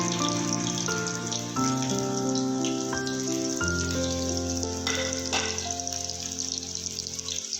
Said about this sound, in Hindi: गोला कबाब फ्राई करेंगे